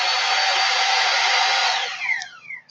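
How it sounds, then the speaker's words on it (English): Loud, steady whirring construction noise, like a power tool running, holds constant for about two seconds, then winds down with a falling pitch and fades in uneven bursts. "sorry about all the construction noise."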